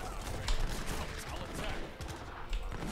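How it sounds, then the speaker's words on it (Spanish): Machine guns in the strategy game Age of Empires 3 rattle in quick, fairly distant bursts, mixed with general battle noise under a steady background. "Las ametralladoras se encargan de esto"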